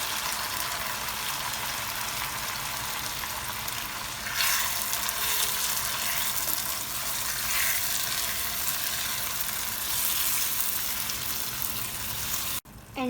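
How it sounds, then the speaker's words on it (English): Tomatoes added to golden brown onions frying in a pan for vegan spaghetti bolognese, giving a steady, close sizzle that swells briefly as they drop in, with no talk. "Now that the onions are slightly golden brown, let's add the tomatoes."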